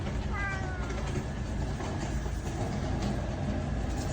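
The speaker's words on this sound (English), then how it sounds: "Look at this beautiful cat." A cat in Thailand gives a short meow near the start amid continuous background noise, with no voices over it.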